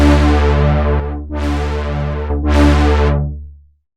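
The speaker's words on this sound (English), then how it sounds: "Now we're going to add just a bit of crunch to this because it's kind of this nice distorted bass line that's sitting on top of everything." Synth bass line crunched by Ableton Saturator at drive 7, three loud sustained distorted bass notes with bright gritty overtones, the last one fading out, heard alone.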